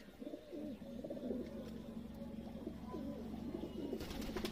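Pigeons in a loft give repeated low, throaty coos, close and steady over a quiet background hum, with a brief rustle of wings or movement near the end.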